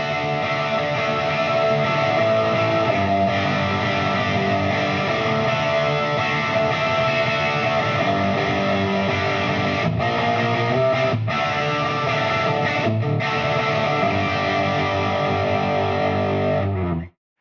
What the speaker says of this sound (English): Now let's crank the AC30 up and hear what these speakers sound like with some distortion running through them.